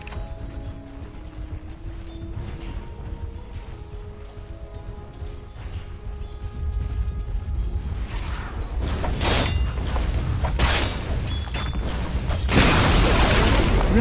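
Dota 2 match with a tower under attack, layered game effects of mechanical clanks and booming impacts building in intensity, sharp explosive bursts toward the end over a constant background bed.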